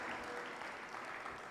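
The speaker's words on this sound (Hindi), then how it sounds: "तालियां कमजोर है साहब" An audience at a Hindi poetry recital applauds, a dense, even wash of clapping that holds steady throughout, fairly loud and close.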